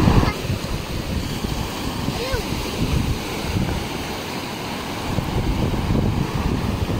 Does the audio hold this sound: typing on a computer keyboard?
no